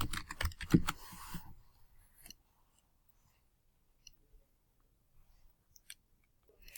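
Fingers tap a computer keyboard in a quick close burst of keystrokes, then a few scattered single clicks follow in near silence, with no talking.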